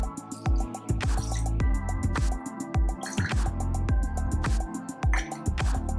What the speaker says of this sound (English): We will be pouring 3 ounces of Coke into the glass.